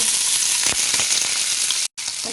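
A steak sizzles and fries hard in an overcrowded pan, a loud, steady broadband hiss with small crackles, cutting out briefly near the end before resuming.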